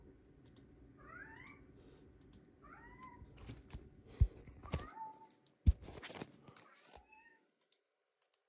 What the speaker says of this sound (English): Cat's calling out for me.